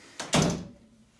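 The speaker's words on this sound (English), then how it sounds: "Close the door." A door swings shut indoors with a quick creak and a solid, close thunk that rings briefly and fades, heard alone.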